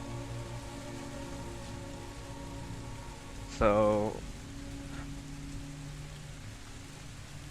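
Steady rain patters as a backdrop to a tabletop role-playing game, a soft even wash under people talking, with one short louder voice burst partway through.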